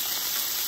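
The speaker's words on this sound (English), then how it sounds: "Look at the sizzle." Steady hissing sizzle of burgers frying on a hot Blackstone E-Series griddle, continuous and close, with no voices.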